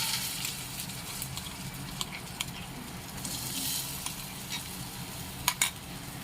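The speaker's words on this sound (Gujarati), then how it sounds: "તો તમે જોઈ શકો છો બધું સરસ મજાનું તેલમાં મિક્સ થઈ ગયું છે." Potato paste is stirred into hot oil while making a crispy maida roll snack: a soft, continuous frying sizzle with a few brief utensil clinks near the end.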